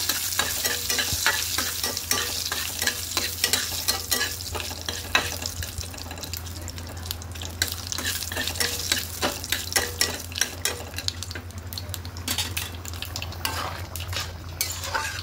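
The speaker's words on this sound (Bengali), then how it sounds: "এদিকে ফোড়নটা একটু ভালো করে লঙ্কাগুলো কড়া করে ভেজে নেব।" Dry chillies fry crisp in hot oil for a spice tempering, with a continuous sizzle and a steady rhythm of quick spatula scrapes and taps against the pan.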